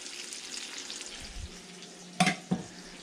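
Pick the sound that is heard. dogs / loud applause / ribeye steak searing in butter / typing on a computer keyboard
ribeye steak searing in butter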